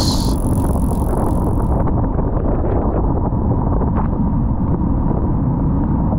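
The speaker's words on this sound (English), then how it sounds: "just to give you an idea what kind of winds we were dealing with" Strong wind gusts buffet the microphone during a rainy bike ride, a constant low roar and rumble, gusting steadily throughout with no pauses.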